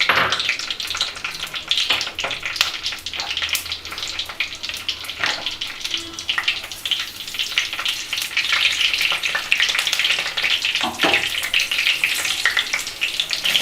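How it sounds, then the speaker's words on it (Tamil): Fenugreek seeds and slit green chillies fry in hot sesame oil for a fish kulambu, giving a dense, close, continuous sizzle with occasional stirring scrapes and no speech. "எண்ணெய் காஞ்சதுக்கப்புறம் ஒரு டேபிள் ஸ்பூன் வெந்தயம் போடுங்க"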